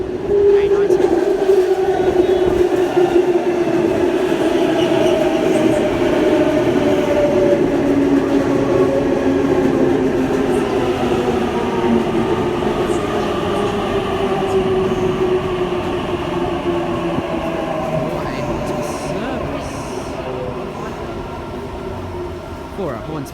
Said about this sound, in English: another Epping to Chatswood Rail Link train approaching